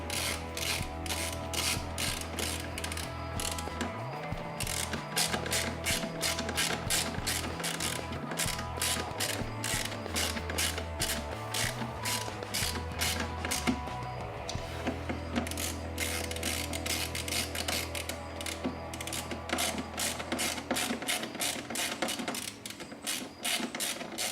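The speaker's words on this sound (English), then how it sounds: "Take my T15 Torx bit on my ratchet. Tighten them up." A ratchet turning a T15 Torx bit to tighten screws on a 2014-or-later Harley-Davidson Touring saddlebag, giving rapid repeated mechanical clicks that run steadily and close up throughout, with no one talking.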